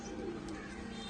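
A Pakistani flying pigeon gives a short, soft, low coo at close range against a quiet background.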